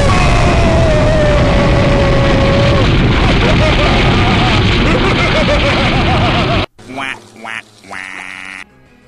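The Explosion move in a Pokemon X&Y battle booms as a loud, sustained blast for several seconds, then cuts off abruptly into quieter in-game sounds.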